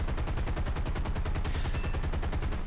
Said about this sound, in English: I open up once again, throwing some gunfire out, doing more damage to their tail